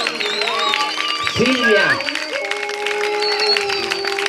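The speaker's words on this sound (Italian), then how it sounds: "brava, applauso." Audience applause at a 2016 musical performance, steady clapping throughout, heard under voices and a sustained musical tone.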